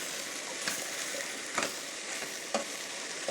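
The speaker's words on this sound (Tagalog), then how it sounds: "Gisa-gisa ko lang siya sa sibuyas." Steady sizzling of mixed vegetables sautéing with onion in a pan, with a few soft scraping stirs at regular intervals; no talking.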